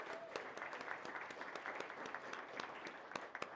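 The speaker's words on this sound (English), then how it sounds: "So a round of applause for that, to be here all together." Steady applause from a large audience at a city State of the City address in Manchester, New Hampshire, with dense overlapping claps held at an even level throughout.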